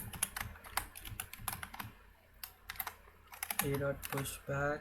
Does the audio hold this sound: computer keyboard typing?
yes